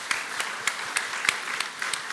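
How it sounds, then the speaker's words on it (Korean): Light, scattered clapping from a church congregation during a Sunday worship service, a handful of distinct claps over a soft wash of applause, fairly quiet and distant. "우리 한번 박수로 한번 축복했으면 좋겠습니다"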